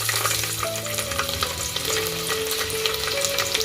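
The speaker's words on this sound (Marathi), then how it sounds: "तेलामध्ये ते फोडणी द्यायला घेतो आई पहिलेच आपले लसूण टाकले" Chopped garlic cloves sizzle and crackle steadily in hot oil, tempering for a Malvani-style crab curry, a constant close frying hiss with a faint tonal hum running underneath.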